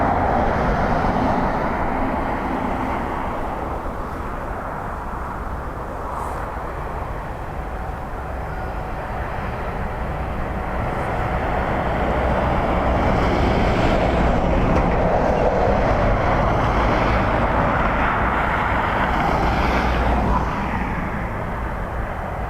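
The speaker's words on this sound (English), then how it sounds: "ATR gliding it in with the prop stopped" An ATR turboprop airliner comes in to land at Dublin Airport on a windy day, a steady broadband rushing roar that swells gradually as it nears.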